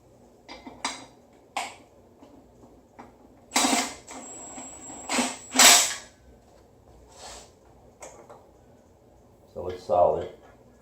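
A power tool bolts a transmission to a Mazda Miata engine in short, sharp bursts: two loud rattling blasts mid-clip and another near the end, separated by lighter clicks and mechanical knocks.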